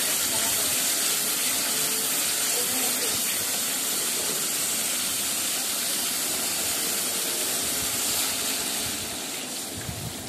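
Broth is poured into spiced masala frying in a pan for a lentil and soybean muitha curry, a loud, steady sizzling hiss that continues without a break and eases slightly near the end.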